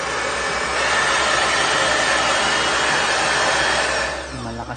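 Salon hair blower under repair testing runs with a loud, steady whooshing roar for several seconds, then winds down near the end.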